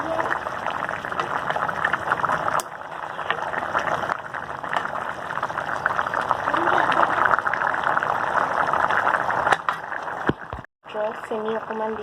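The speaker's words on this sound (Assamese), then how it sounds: "আৰু অকণমান সময় উতলিব দিম।" Chole paneer curry simmers in a pot after water is added, giving a continuous bubbling, sizzling texture for about twelve seconds with a brief clatter near the end.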